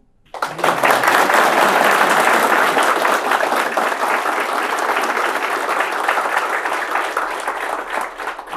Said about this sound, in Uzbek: butun zal qarsak chavordi sizlarga o'xshab